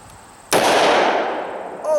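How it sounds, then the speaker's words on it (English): A single sharp, loud report from a lightweight 11-ounce S&W 340 SC revolver firing .357 ammunition, close by, ringing out and decaying slowly, with a voice exclaiming at the end. "I don't think I want to shoot any more of those 357s. Those things are hot out of this lightweight 11-ounce gun."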